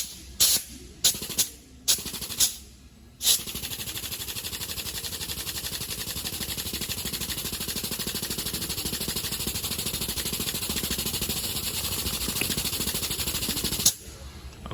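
Grease gun pumping grease into a bearing buddy on a trailer wheel hub: a few short sharp clicks at first, then a long steady hissing spray that runs unbroken until it cuts off near the end.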